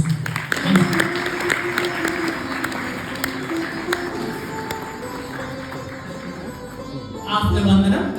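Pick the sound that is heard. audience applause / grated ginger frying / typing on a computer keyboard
audience applause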